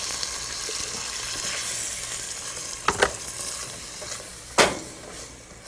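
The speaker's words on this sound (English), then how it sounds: "Leave it on the high flame and reduce it down till the chickpeas and the sauce thicken" Chickpeas in a coconut yogurt sauce with turmeric and salt bubble and sizzle over a high flame, a steady close frying hiss broken by a few clinks of stirring.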